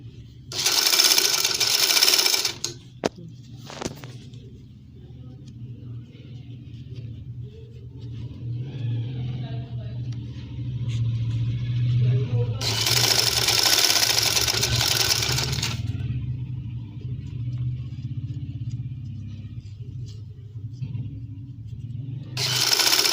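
A sewing machine stitches purple thread along the edge of an angrakha garment, running in two loud bursts of rapid mechanical whirring separated by a lower background hum.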